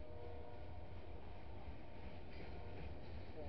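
A freight train rumbles steadily past a cemetery at night, close by, with a low continuous roar and faint rattling of cars, no voices.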